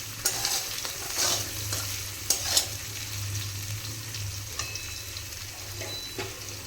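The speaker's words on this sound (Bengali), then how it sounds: "এরপর আদা আর রসুনের কাঁচা গন্ধটা যাওয়া পর্যন্ত এটাকে একটু ভেজে নেব।" Onion, green and red chilli paste, garlic paste and ginger paste fry and get stirred in a pot for mutton curry with potato, giving a steady sizzle with spatula scrapes and clanks close by, with no talking.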